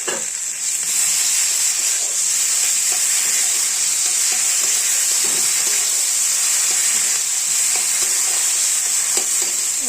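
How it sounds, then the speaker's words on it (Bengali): Bitter gourd and boiled potato going into a pan of fried onions, with a steady bright sizzle of hot oil and occasional stirring scrapes, close and continuous with no talking. "এবার দিব করলা আলু সিদ্ধ"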